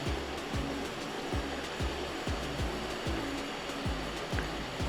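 Thinly sliced large onion with spices sautéing in a pan for a mint paneer pulao, giving a steady broadband sizzle with soft rhythmic stirring scrapes throughout, close and continuous with no talk.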